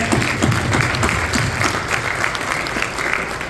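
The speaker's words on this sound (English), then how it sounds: "Let's give these state officials a round of applause" Steady applause from an audience at an annual gala, dense and continuous throughout, with no talking over it.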